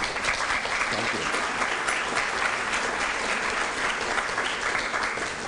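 A lecture audience on perfectionism breaks into steady, sustained applause, dense clapping from a full room with no pauses throughout.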